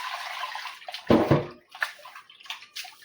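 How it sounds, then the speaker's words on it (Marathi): Raw chicken pieces are washed in a vessel of water for biryani, a run of sloshing and splashing with a couple of louder pours and swishes, close and alone. "आता चिकनला पाण्याने धुतलं"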